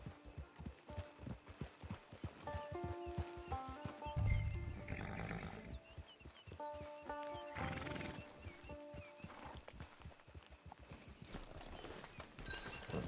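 Horse in the Red Dead video game neighing twice with loud whinnies over a steady clip-clop of hooves, the hoofbeats rhythmic and close throughout.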